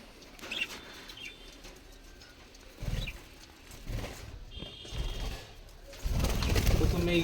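Budgerigars in a cage give short chirps and tweets scattered through the clip, with a few bursts of wing flapping and bumping near the mic, the loudest flurry at the end.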